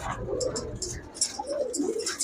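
Pakistani pigeons at a pigeon market coo in soft, repeated low calls, fairly close, with faint chirps and background market noise around them.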